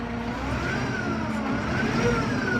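A 2018 Massey Ferguson 6713 tractor's four-cylinder turbo intercooled SISU diesel runs steadily at close range, a continuous mid-pitched drone with a slight rise in revs toward the end.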